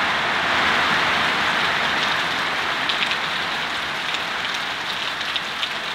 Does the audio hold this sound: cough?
no